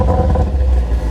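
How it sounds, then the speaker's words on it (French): An ethanol-fuelled Audi RS4 with a biturbo V6 and stock exhaust starts up, a loud close low rumble of the engine catching and settling into a throbbing idle. "Démarrage de la voiture."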